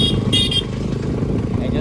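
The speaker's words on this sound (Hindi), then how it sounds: "एग्जॉस्ट का जो साउंड है ना भाई एकदम ज़बरदस्त भाई" RS200 motorcycle fitted with an Akrapovic exhaust, a steady, close, low engine drone running throughout while someone talks over it.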